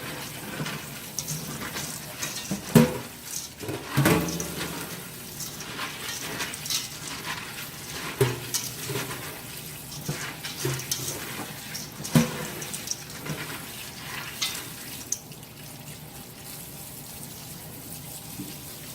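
Beans washed in a pot of water to rinse off film and dirt, heard as irregular splashing and sloshing with a few sharper knocks, close by and without talk.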